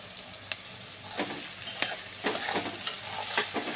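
Ginger paste and onions fry in a pan while a spoon stirs them, giving a soft steady sizzle broken by several quick scraping strokes, close and fairly quiet, no voices.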